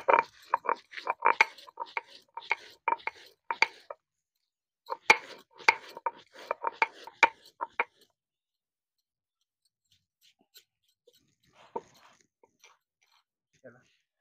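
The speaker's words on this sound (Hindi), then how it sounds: "तो यहाँ जीरा मिर्च और नमक हमने पीस लिया है" Cumin, chili and salt are ground together for crispy rice namkeen, making quick, irregular knocks and scrapes in clustered bursts, then sparse faint taps toward the end.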